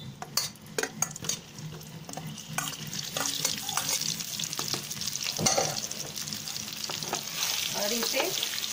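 Spiced potatoes frying in mustard oil in a pan, a steady sizzle broken by repeated scraping and clinking strokes of a spoon as they are stirred, close and moderately loud, with no talking.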